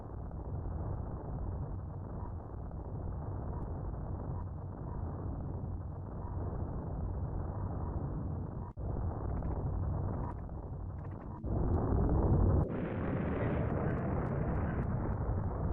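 Explosion in the Super Metroid video game as Samus's ship escapes the planet, a long, loud rumbling roar that shifts and intensifies partway through, with deep, sustained low-end rumble.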